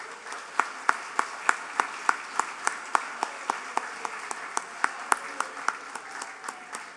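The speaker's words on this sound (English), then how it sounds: "Please give yourselves a huge round of applause." Guests at an awards dinner clap in a sparse, rhythmic patter of distinct, sharp claps over a soft room murmur, lasting several seconds.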